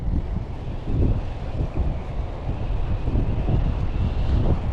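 Steady, heavy wind roars and buffets across the microphone at a boat ramp, a continuous low rumble with gusty swells and no voices.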